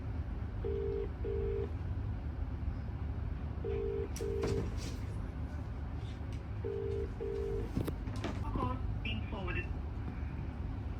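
A phone ringback tone repeats in paired beeps several times, unanswered, over steady background noise and some faint rustling.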